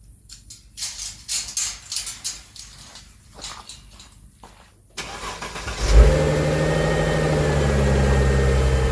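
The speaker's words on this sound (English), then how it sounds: "we'll move the Mercedes" A Mercedes car starts up after several seconds of shuffling and clunks, and its engine then settles into a steady, loud, close idle with a low hum.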